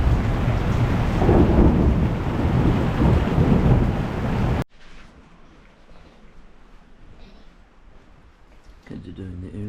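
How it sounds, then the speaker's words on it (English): Thunderstorm over the bay at Kotor, Montenegro, a loud rolling rumble of thunder with heavy rain, then an abrupt drop to a quiet, faint background. "Incredible thunderstorm over the bay."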